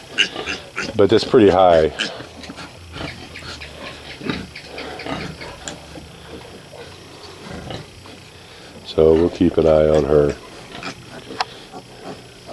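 A young curly-tailed pig gives two loud, harsh squealing bursts close by, with quieter grunts and shuffling between them, while someone talks gently over the sounds.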